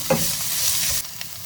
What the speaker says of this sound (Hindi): हल्दी डाल के इसको तकरीबन 30 सेकंड्स के लिए इसको फ्राई करेंगे